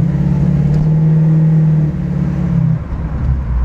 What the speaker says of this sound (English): That engine note is so beautiful.